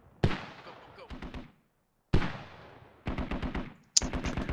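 Gunfire in the military shooter game Squad comes as single sharp shots with echoing tails, then rapid bursts of automatic fire, fairly close, with a short silent gap between volleys.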